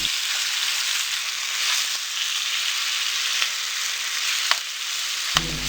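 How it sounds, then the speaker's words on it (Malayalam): Marinated chicken frying in hot sunflower oil in a pan: a loud, continuous hissing sizzle with a few sharp pops, close up, with no talking. "അതിലേക്ക് ചിക്കൻ കുറേശ്ശെ ഇട്ട് നന്നായി പൊരിച്ചെടുക്കാം."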